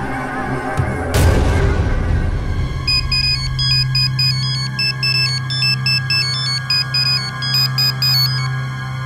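A phone ringtone plays a repeating electronic melody in steady bursts, following a sharp bang at the start, with a low hum underneath.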